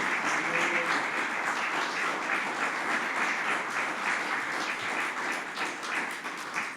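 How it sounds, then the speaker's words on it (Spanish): A church congregation applauds in a dense, sustained wash of clapping that fills the room evenly from start to finish, steady and fairly loud, with no distinct voices standing out. "Dale un aplauso al Señor, hermano."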